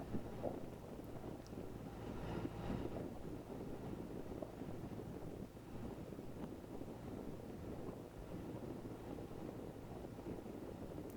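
A steady low boat engine drone at reduced revs runs beneath gusty wind buffeting the microphone, with faint water rush throughout, on a crossing from Cardiff to Portishead.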